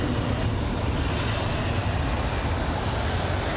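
A jet aircraft of UAE Royal Jet lands at London Heathrow, a steady broad engine and air roar holding at a constant loud level throughout.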